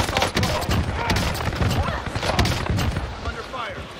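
Video game gunfire crackles in dense, continuous bursts over four seconds, loud and close, with a busy mix of shots and impacts and some voice-like sound woven in.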